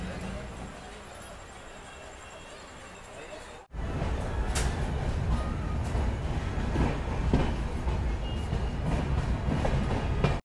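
Udyan Express passenger train running on rails between Bengaluru and Yelahanka, quiet at first, then a sudden jump to loud steady rumble and clickety-clack of wheels with occasional squeal.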